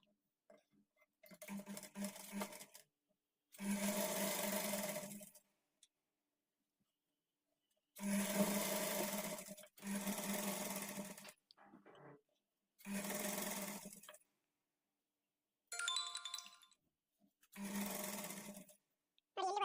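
A sewing machine stitches the double-folded hem of a kurti slit in a series of short, loud bursts of a second or two each, broken by pauses, with no voices.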